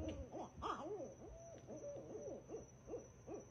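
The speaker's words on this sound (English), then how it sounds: "Later, I hooted up these barred owls." Barred owls hoot in the Everglades, a run of rising and falling hooting calls repeating rapidly and overlapping, fairly faint against a steady high insect drone.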